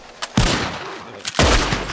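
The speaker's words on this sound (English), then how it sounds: "He started shooting, only killed a rattlesnake." Two loud, close gunshots aimed at a rattlesnake in Red Dead Redemption 2 crack about a second apart, each followed by a booming rumble that trails off.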